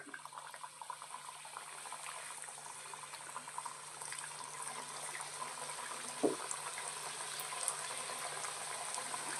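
Malai khaja dough pieces frying in hot oil over a medium flame, giving a steady, close bubbling hiss that runs evenly throughout with one brief knock partway through.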